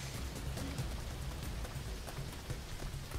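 Steady rain hiss in the video game DayZ on the Namalsk map, a continuous broadband wash with faint low rumble, constant and fairly close throughout with no talk.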